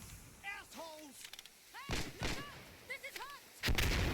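Gunshots and booming blasts in a video game, several sharp loud bursts scattered through the stretch, with players' voices talking in between.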